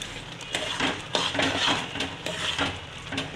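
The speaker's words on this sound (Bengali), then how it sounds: "জলটাই শুকিয়ে নিচ্ছি নেড়ে নেড়ে" Khesari dal chachchari being stirred in a pan with salt and chilli powder as the water cooks off, a steady scraping of spoon against metal with soft clinks and a faint sizzle underneath, close up and continuous.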